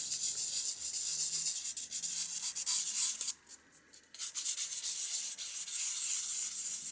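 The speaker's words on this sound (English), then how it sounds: "For the swallow body, I sanded the belly, the back," Sandpaper rubbing over a hand-carved wooden swallow, a steady close scratchy hiss of sanding strokes that briefly eases off midway before resuming.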